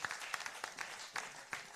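Audience applause after a music-industry intellectual property event segment, a brief patter of scattered claps at moderate distance, fairly faint and thin rather than a full ovation.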